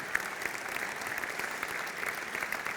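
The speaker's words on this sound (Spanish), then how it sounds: "Otro aplauso para esas organizaciones" An audience at the DFA Foundation's 50th anniversary event applauds the organizations, a continuous, even wash of many hands clapping in a large room, fairly soft and with no talk over it.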